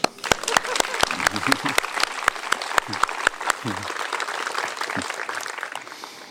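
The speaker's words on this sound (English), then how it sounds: "let's give her a clap" Scattered audience clapping after a talk on habits and thought patterns, distinct sharp claps that thin out over several seconds, with murmured voices underneath.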